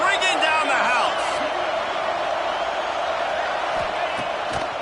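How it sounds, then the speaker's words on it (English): A college football stadium crowd at Penn State roars on a third down, a loud, sustained wash of cheering and whoops with a commentator talking over it. "Third down, and this crowd is bringing down the house."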